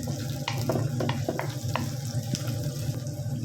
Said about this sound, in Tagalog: halu-haluin lang natin mga langga hanggang sa makaramelize yung ating onion. Then, isunod natin yung sili green natin mga langga.